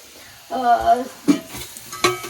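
Paneer cubes fry in a pan for a quick paneer fry, with a few distinct spatula stirs and scrapes over a soft sizzle, close and fairly loud.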